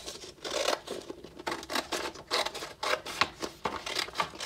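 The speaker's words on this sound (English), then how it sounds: "using my scissors, I can cut" Scissors snipping along the fold of folded paper for an art lab bubble-print project, a close series of crisp, uneven cutting and rustling sounds repeating for several seconds with no talk.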